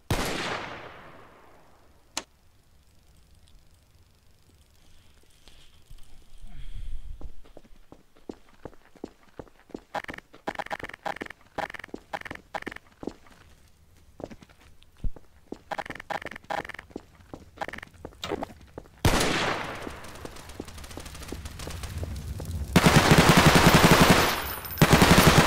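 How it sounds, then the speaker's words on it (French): In the game Garry's Mod DarkRP, gunfire crackles in rapid machine-gun bursts and single shots, scattered among quick footsteps, then swells into a dense, loud volley near the end. "On me tire dessus les gars, on me tire dessus."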